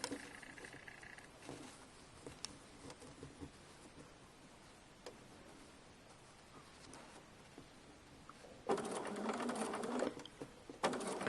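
A sewing machine stitches a fabric seam in short, quiet runs, then a louder sustained burst of rapid stitching near the end, in a quiet room.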